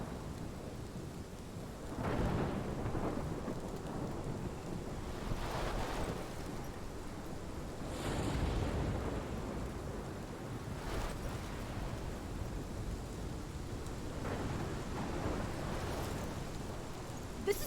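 A thunderstorm in Life is Strange Remastered, with heavy rain and low rolling thunder swelling in several booming waves over steady downpour, no voices.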